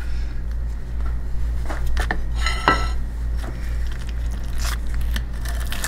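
A knife and serving utensil cut into the crusty top of a baked tuna cheese casserole, giving several close crunchy crackles and scrapes against the dish, with a steady low hum in the background.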